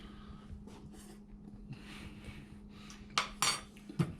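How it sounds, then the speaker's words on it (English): Metal spoon handled in a home kitchen while cooking sloppy joes, quiet clinks and scrapes against dishes near the end, with faint room noise before. "I gotta grab a different spoon."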